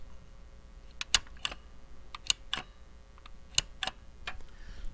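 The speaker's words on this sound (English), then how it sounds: "So it's now become a nice clicky keyboard." Sharp, clicky keys on a Tandy CoCo 3 keyboard fitted with a Keyfix3 replacement board, tapped one at a time in an irregular rhythm, close and fairly quiet, with no talking.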